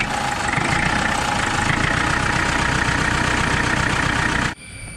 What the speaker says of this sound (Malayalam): ലൗഡ് ആയിട്ടുള്ള ഒരു എഞ്ചിൻ തന്നെയാണ് ഈ വാഹനത്തിൽ